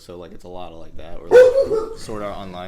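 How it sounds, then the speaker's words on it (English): A dog barks once, loud and near, in the middle of people talking, with a short whiny tail after the bark. "That's a dog, by the way. The bark."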